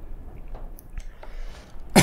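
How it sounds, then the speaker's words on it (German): A person coughs and clears their throat after choking on something while gaming, a few faint dry throat sounds followed by one sharp, loud cough at the end, with no speech. "Bisschen gehustet."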